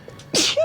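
A single sharp human sneeze, close and loud, bursting out after a brief quiet pause and trailing into a short voiced tail.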